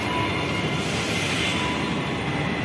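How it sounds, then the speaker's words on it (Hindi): A Delhi Metro train rumbles at a station, a loud, steady roar of wheels and motors that fills the whole clip without pause, with no talking. "ये है मेट्रो स्टेशन दिल्ली का, जो दिल्ली में चलता है और कहीं नहीं चलता है।"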